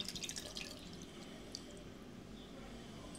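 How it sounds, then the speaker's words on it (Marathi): Leftover water from tomato peels is poured into tomato puree, a quiet run of dripping and splashing at the start that settles into a faint, steady trickle. "टोमॅटोचं पाणी उरलेलं ते सालाचं पाणी. हे पाणी टाकते यातलं."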